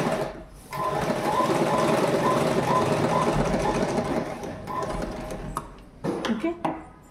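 A sewing machine runs in a steady fast stitching burst while sewing the joint of a uniform nicker, then slows and stops in short bursts near the end, close and loud.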